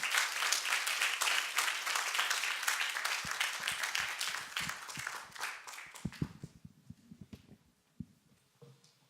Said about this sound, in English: So please, round of applause for my panelists who are going to join me up here at the round table.